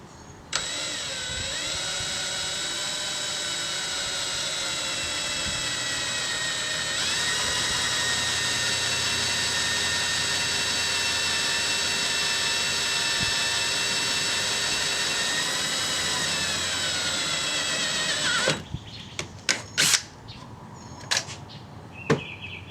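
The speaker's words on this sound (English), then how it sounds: "you're going to be drilling in a 1/4" into the panel" A steady, high-pitched whine of a power drill boring a quarter-inch hole into a car's trunk lid panel runs continuously for most of the stretch, then stops, followed by a few sharp clicks and knocks.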